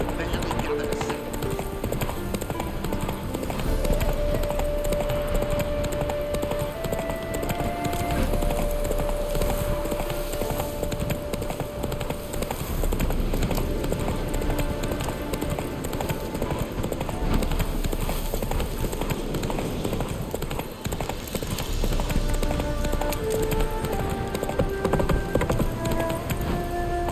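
Horse hooves clip-clopping steadily on the ground in The Witcher 3, continuous and fairly close throughout, with game music and ambient sound underneath.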